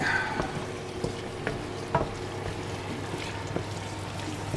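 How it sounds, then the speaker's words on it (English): Keema madras curry sizzling in a pan while being stirred, with scraping clicks and soft sloshing over a continuous frying hiss. "So let's give our madras a bit of a stir, shall we?"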